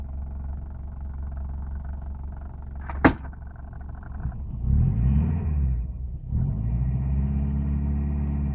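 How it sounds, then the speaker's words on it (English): Close, steady low rumble of a Subaru engine with a SunFoil carburetor idling after a month unused, broken by a sharp click near the three-second mark and a brief rise in revs before settling back to an even idle. "Idling."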